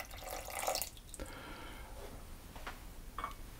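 Water poured into a pan of sugar for caramel, a brief splashy pour at the start followed by a few small drips and clinks in a quiet kitchen.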